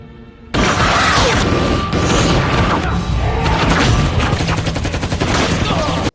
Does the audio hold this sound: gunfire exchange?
yes